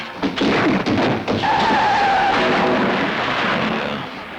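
Cartoon plane landing: a few thumps open into a long skidding screech with a whistling, wavering tone, loud and steady, fading slightly at the end, no talking.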